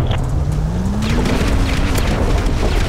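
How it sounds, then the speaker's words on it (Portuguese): An explosion in a GTA roleplay game: a deep, sustained low rumble that stays loud across the clip, with a rising engine-like tone under the blast and no talk. "Nossa, explodiu alguma coisa aqui."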